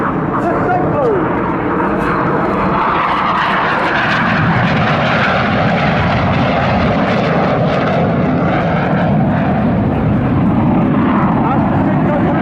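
Red Arrows Synchro Pair jets performing at Southport Airshow, a loud, sustained roar of jet engines sweeping through, while a commentator talks over it continuously.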